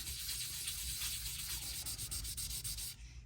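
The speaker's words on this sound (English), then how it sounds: "This is a 1000 grit sandpaper. So we're not scratching it up really bad, but we're getting all that rust and residue." 1000 grit sandpaper rubs rust and residue off the metal pickup of an O gauge model train, a close, steady rasping scrub with quick back-and-forth strokes that stops abruptly at the end.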